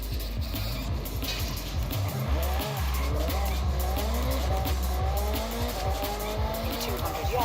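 Car in the Forza Horizon 6 racing game driving hard with squealing tires and skidding, the engine droning throughout and a brief thump of impact partway through, close and loud.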